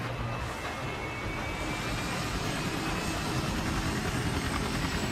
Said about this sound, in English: I'm in the chopper, coming your way